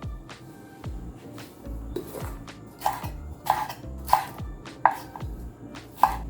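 Goat meat being cut with a knife on a board, heard as a steady series of firm chopping thuds. Sharper knocks grow more regular and prominent toward the end.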